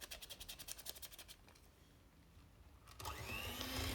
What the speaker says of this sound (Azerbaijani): Bunu mikserlə qarışdırıram.